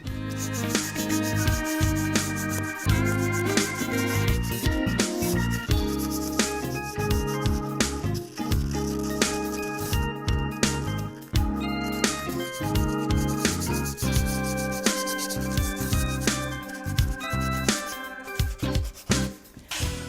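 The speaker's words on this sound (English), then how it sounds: "When sanding, it can be tedious" A wooden chair is sanded by hand with sandpaper in a continuous scratchy rubbing that holds a steady back-and-forth rhythm for the whole stretch. The sound is close and dry, with no speech.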